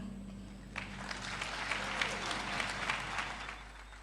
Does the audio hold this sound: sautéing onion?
no